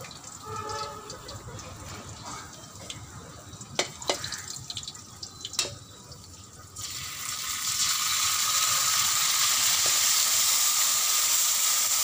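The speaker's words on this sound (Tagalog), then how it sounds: "It's sizzling." Garlic sizzles in frying oil for sayote with sardines, a soft hiss that swells into a steady louder frying noise after some scattered clinks and taps nearby.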